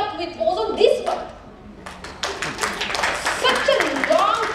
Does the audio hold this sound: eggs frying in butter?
no